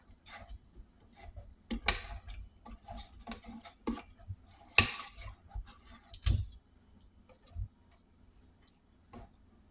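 A utensil scraping and tapping against a pot while stirring maja blanca dessert mixture, with irregular light clinks and scrapes, close and fairly quiet, no talking.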